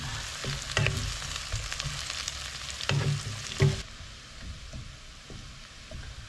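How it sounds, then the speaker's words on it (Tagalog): Onion topping sautés in a pan until browning, with a close sizzle and scraping stir strokes that drop to a softer fry in the final seconds. "Ito muna ang ating isusutay. Hintayin natin mag-brown."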